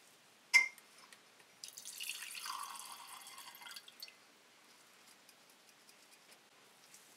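Chloroform is poured into a glass beaker on a lab hot plate stirrer, a sharp clink followed by a soft, brief trickling pour lasting about two seconds, then quiet.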